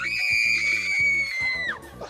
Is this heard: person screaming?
yes